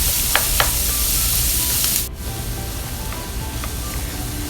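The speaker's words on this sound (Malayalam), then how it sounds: "ഇനി ഈ സെയിം പാനിൽ തന്നെ കുറച്ചും കൂടി ഓയിൽ ഒഴിച്ചു കൊടുത്തിട്ട് നമുക്ക് ഉള്ളി ഒന്ന് വഴറ്റിയെടുക്കാം" Chopped large onions sautéing in oil in a pan for chilli chicken samosa filling, a steady broad sizzle that briefly cuts out midway, then resumes slightly lower, with light stirring scrapes.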